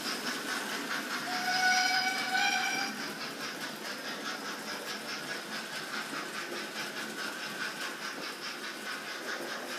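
A Hornby model railway locomotive sounds a long whistle, a faint steady tone lasting a couple of seconds over a continuous low running hum of the model train.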